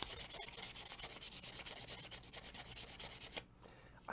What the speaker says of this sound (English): I don't think that this piece of sandpaper is going to get me all the way through that metal in the way I want it to